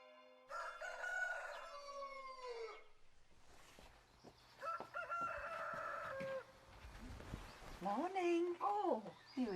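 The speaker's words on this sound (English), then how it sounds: "I wonder where the chickens were. Look, there they are up there." A rooster crows in long drawn-out calls at the start and again near the middle, with chickens clucking and squawking in between and a higher-pitched cry near the end, fairly close and loud against a quiet farmyard morning.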